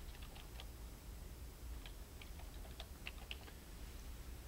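Someone types an email address on a computer keyboard, with soft, irregular key clicks in short bursts over a faint steady background hum.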